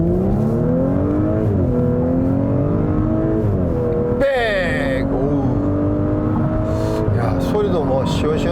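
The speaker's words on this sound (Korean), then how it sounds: "급가속을 한번 해보도록 하겠습니다. 다시 다이나믹에 두고 하나 둘 셋." An Audi S4 TFSI quattro in Dynamic mode under hard acceleration, engine note climbing steadily in pitch through the revs with a brief shift break midway, loud and continuous from inside the cabin, a voice speaking over it.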